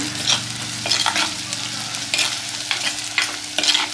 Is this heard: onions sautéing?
yes